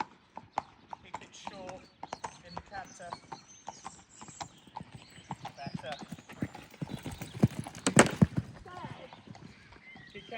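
Horse cantering over jumps during a riding lesson in an arena, with repeated clip-clop hoofbeats in a rolling rhythm, close and clear, while an instructor talks over it and a short whinny or snort sounds near the end.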